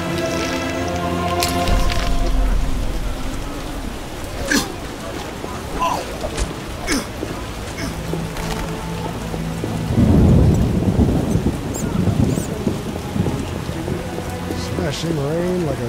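Heavy rain pours steadily in The Witcher (2007) video game while thunder cracks and rumbles several times, with a louder rolling peak midway; a voice speaks briefly over the storm.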